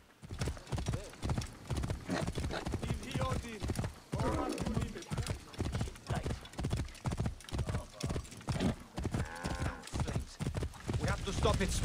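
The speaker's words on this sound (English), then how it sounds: "Get over here, horse." Rhythmic hoof clip-clop of a galloping horse in the video game Assassin's Creed Origins, close and steady throughout, with occasional neighs and a voice talking over it.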